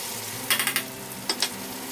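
Grated onion and tomato are frying in a pan for a Bengali snakehead fish curry, giving a soft steady sizzle with a few quick clustered stirring scrapes.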